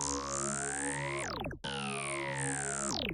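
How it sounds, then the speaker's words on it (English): Synth beat with a tape stop effect from Looperator: a sustained, rich synth chord that slows and drops in pitch to a brief halt near the middle, then restarts at full level, loud and alone. "Then I added this tape stop effect with Looperator."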